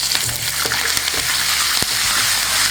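Curry leaves hit hot oil alongside browned urad dal and chana dal while preparing uppu urundai, giving a loud, steady crackling sizzle with a few sharper pops throughout, and no voices.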